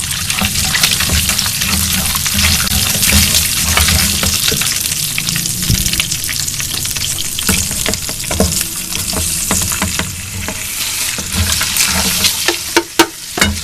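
Whole garam masala dropped into hot frying oil for fish pulao, a loud, continuous sizzle and crackle close up, with a few sharp pops and clinks near the end and no talking.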